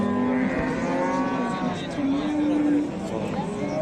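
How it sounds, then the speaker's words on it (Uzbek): A Russian black-and-white cow gives a long, drawn-out moo close by at a livestock market, the low bellow sustained over several seconds with faint crowd chatter behind it. "navbatdagi sigirimiz rossiyskiy qora ola sigir ekan"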